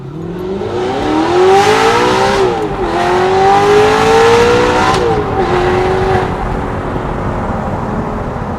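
Audi R8 with a V8 engine and manual gearbox, exhaust valves open, driving: a loud, close engine note rises and falls with revs through the gears, steady and prominent, with no talking.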